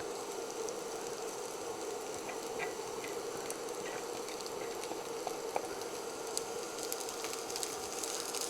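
Shredded cabbage frying in a pan for sanbusa filling gives a steady, even sizzle and bubbling hiss, moderately close, with faint small pops and no talk.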